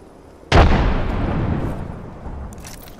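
A frag grenade detonates in the Apex Legends battle royale game: one sudden loud blast followed by a long rumbling decay that fades over a couple of seconds.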